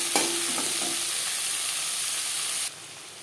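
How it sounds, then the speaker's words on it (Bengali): Chopped onions and tomatoes fry in a pan, a steady close sizzle with a stir or clatter at the start, cutting to quieter sizzling near the end. "পেঁয়াজ টমেটো ভাজা হয়ে এসছে, এর থেকে বেশি ভাজবার প্রয়োজন নেই।"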